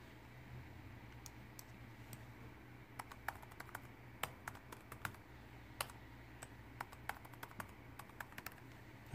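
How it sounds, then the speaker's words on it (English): Quiet computer keyboard typing as a username and password are entered, irregular clusters of soft clicks over a low background hum, close but faint, with no one speaking. "So I'll go ahead and put in my username and password."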